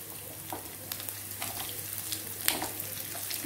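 Fennel, cumin, pepper, poppy seeds, ginger and garlic sauté in a pan, making a constant gentle sizzle punctuated by quick stirring scrapes and taps, close and moderately loud, no voices.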